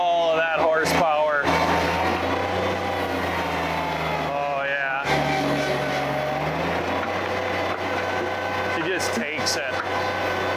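A mini skid steer with a hydraulic drum attachment runs hard at full power, giving a loud, constant engine and hydraulic drone with shifting pitch as it works the ground, heard throughout with talk over it.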